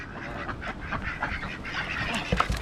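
A flock of ducks on the South Coast of New South Wales gives soft, overlapping quacks and honks, faint and somewhat distant over a steady outdoor background.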